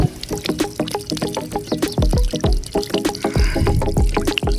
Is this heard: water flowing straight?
yes